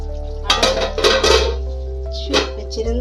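Metal pot and lid clatter while village chicken curry cooks, several sharp clanks and scrapes close by over a low steady hum.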